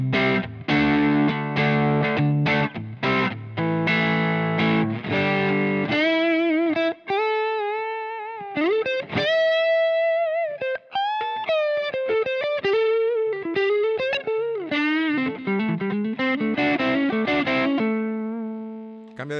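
An electric guitar played through a Boss ME-90 multi-effects unit on a Fender Tweed amp model: strummed chords give way to sustained, bending lead notes with mild overdrive, loud and alone.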